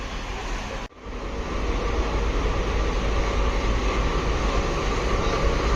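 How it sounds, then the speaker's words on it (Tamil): A diesel locomotive hauling the West Coast Superfast Express rolls through a station platform, a loud, steady broadband roar and rumble after a brief sharp dip, with no voices heard. "Beautiful diesel loco."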